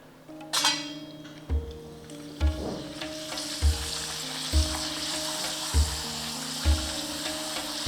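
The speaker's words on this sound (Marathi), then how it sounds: "अजून थोडेसे तळूया" Homemade urad dal papads frying in hot oil, a loud steady sizzle punctuated by regular bursts and clatters roughly every second as each batch is stirred or flipped, with no talking.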